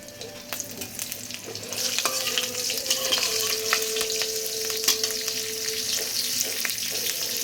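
Black cumin seeds and green chilies hitting hot oil in a heated wok, a bright sustained sizzle with scattered crackles and pops, close and continuous throughout.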